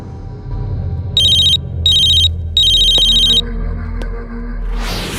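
A telephone rings in three bursts of electronic trilling tones, clear and fairly loud over a low background hum, followed by a couple of faint clicks.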